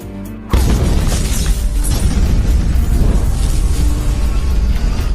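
A car explosion in a film: a sudden loud blast bursts in and keeps roaring, a dense booming blast with crackling debris that fills the space for several seconds.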